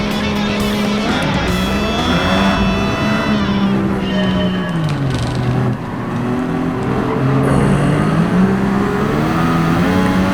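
A Group C R92CP race car roars around the Nürburgring in Gran Turismo 7, its engine loud and continuous, pitch climbing and dropping through gear changes and corners, with a hint of tire squeal and no talking.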